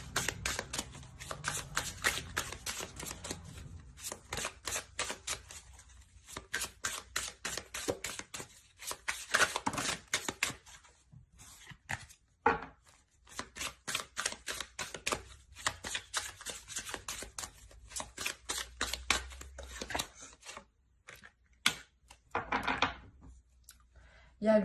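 A tarot deck is shuffled at length for a card reading, giving long stretches of quick, crisp card flutters and taps broken by short pauses and a few louder knocks, close up and without speech.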